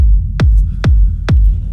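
A techno rumble from a kick drum chain pounds in four evenly spaced, loud, booming hits, each deep thump sliding down in pitch with a low smeared tail between beats.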